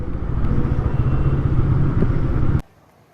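Motorcycle engine rumbling steadily at close range as the bike rolls into a parking spot, then cutting off abruptly near the end, leaving quiet.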